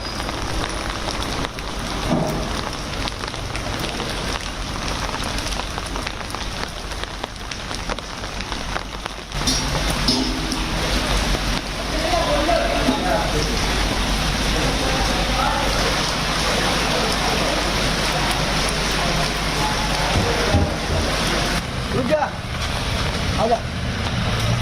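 Heavy monsoon rain pours steadily in Mumbai, a dense, continuous hiss of water that grows slightly louder partway through.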